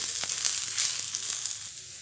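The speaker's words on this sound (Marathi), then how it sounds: "सुक्क खोबरं टाकायचं, त्यावर थोडंसं तेल टाकायचं. चांगलं आता हे दोन्ही भाजून घ्यायचं." Onion and dried coconut roasting in a little oil in a pan, a soft, even sizzle close by with light crackles and occasional stirring scrapes, with no one talking.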